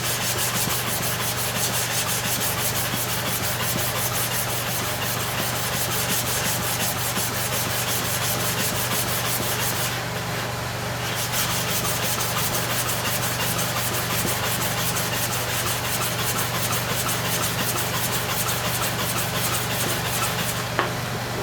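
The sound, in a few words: clipper blade sharpened on stone with oil and powder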